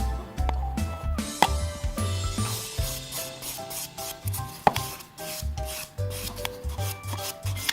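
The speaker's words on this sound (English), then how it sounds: "I'm going to quickly buff this with my little sanding sponge" Acrylic nail being buffed by hand with a small sanding sponge, a close, steady rhythmic scratchy rubbing in quick repeated strokes, alone without talk.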